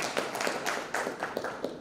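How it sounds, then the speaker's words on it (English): Conference audience clapping for Philo, a short burst of fairly sparse, rhythmic claps, quiet and slightly distant. "clap for Philo."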